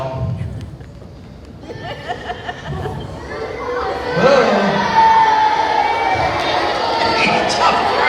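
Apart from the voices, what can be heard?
crowd of school children shouting and cheering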